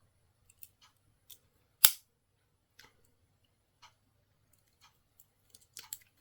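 Small scissors on a Victorinox Farmer X Damast limited-edition Swiss Army pocket knife being opened and snipped, giving a few sharp metallic clicks and one loud snap, close and isolated against near silence.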